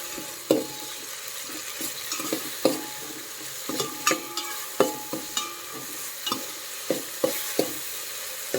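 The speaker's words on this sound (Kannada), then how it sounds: "ಈ ಥರ ಫ್ರೈ ಮಾಡ್ಕೊಳ್ಳಿ ಚೆನ್ನಾಗಿ." Ingredients for mango sambar frying in a pan with a steady sizzle, punctuated by a dozen or so sharp scrapes and knocks of stirring at an uneven rhythm, close up with no talking.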